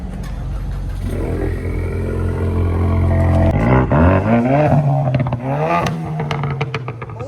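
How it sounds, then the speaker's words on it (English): A car engine fitted with an eBay cold air intake revs hard and close, its throttle rising and falling, with crackling exhaust pops and clattering bursts near the end; no one speaks. "The pops were crazy."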